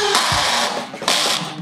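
A cordless battery drill, a Bosch or a Black and Decker, whirs loudly in two short motor bursts separated by a brief dip, close to the microphone.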